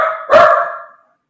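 A dog gives a single sharp, loud bark close by, ringing briefly before fading into silence.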